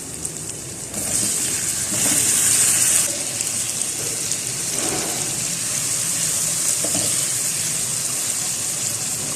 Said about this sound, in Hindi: ½ कप पानी ऐड करके कवर करके ढक्कन पकने के लिए रखें।